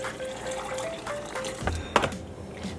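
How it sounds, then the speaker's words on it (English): Water poured from a kettle into a pot of saltfish set to boil, a close, steady splashing stream running for a few seconds with a couple of sharper clinks near the end and no talking. "I'm just going to add some water from my kettle."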